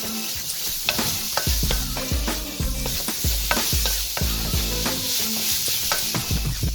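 Ground beef sizzles on high heat in a pan while a spoon stirs it, producing a steady frying hiss punctuated by frequent rhythmic scraping and clacking strokes, close and loud with no talk.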